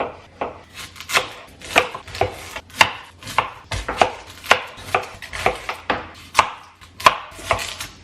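Knife chopping salsa ingredients on a cutting board in a home kitchen, a steady run of close, crisp thuds at a quick, fairly even rhythm with no talking.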